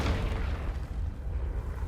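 A Confringo blasting spell bursts in Hogwarts Legacy, a loud, continuous low rumbling boom that rolls through the whole moment with no clear separate hits.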